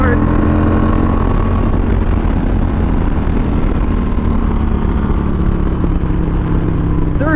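A Harley Davidson Iron 883 motorcycle pulls hard in third gear. The loud, continuous exhaust roar holds steady with rising tones over the whole stretch, and wind noise is heavy.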